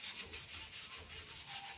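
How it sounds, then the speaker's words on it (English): Fiberglass surface being scuffed up by hand as prep for Raptor coating, a steady, close abrasive rubbing with rhythmic strokes, faint and continuous throughout. "So I'm just going to scuff it up."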